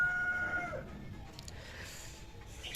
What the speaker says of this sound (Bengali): মুরগি না মোরগ ডাকে যাই হোক যে ডাকে সে ডাকবে